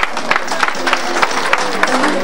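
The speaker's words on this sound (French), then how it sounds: "On les applaudit très fort." An audience at a comedy festival's pedal car race in Villeneuve-sur-Lot claps for the racers, a short burst of brisk, rhythmic applause with a few louder claps standing out.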